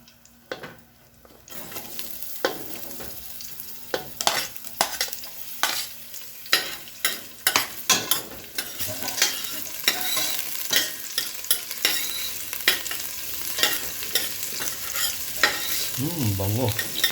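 Onions sauté in a pan for clam tinola, a loud continuous sizzle broken by repeated scraping stirs of the spatula, close and without speech, with a short voice near the end.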